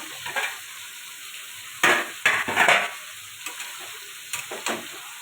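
Cabbage and prawn ghonto being stirred in a pan, giving a soft steady sizzle with a few scraping stir strokes that come in short bursts, close and fairly quiet, with no talking.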